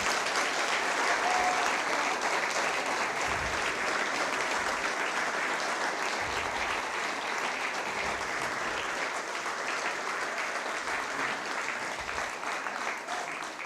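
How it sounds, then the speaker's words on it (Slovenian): Sustained, loud applause from a crowd at an event honoring all the performing groups together, dense clapping continuing evenly for over ten seconds with a few low thumps beneath. "Dajmo en aplavz še za vse skupine skupaj."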